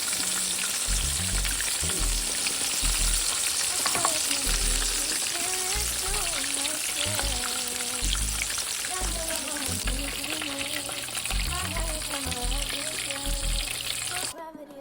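A fish fillet fries in hot oil with a steady, dense sizzle and crackle throughout, close and fairly loud, while faint background music plays underneath.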